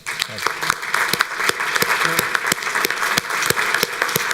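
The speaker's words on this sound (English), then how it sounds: "want to have us all give our panel a big round of applause" Audience applause for a panel at the 2018 Borlaug Dialogue, a World Food Prize event, with scattered claps standing out sharply over a steady wash of clapping from a moderately sized room, some voices underneath.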